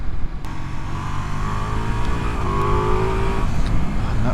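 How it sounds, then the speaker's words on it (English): A 2024 Ducati Multistrada V4S's V4 engine roars loudly and steadily, its pitch rising and falling as it revs, close and continuous throughout. "And that roar from that engine, oh."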